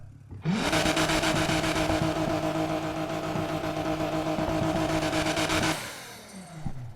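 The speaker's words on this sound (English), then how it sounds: "hold in the acceleration. I'm going to move it all the way to smooth and all the way back to aggressive" A car engine in Need for Speed Heat revs hard and holds at high revs for about five seconds, exhaust tuning swept from smooth to aggressive, a loud, buzzy exhaust tone, then cuts off and fades.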